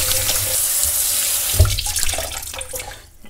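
Tap water runs steadily into a plugged kitchen sink as fish for hot smoking are rinsed, a close, continuous splashing flow with a brief louder gush midway before it eases off.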